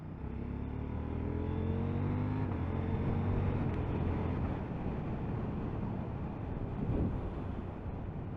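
A 2022 KTM 890 Duke motorcycle cruising in third gear, its engine humming steadily up close over broad wind rush, fairly quiet and continuous with no talking.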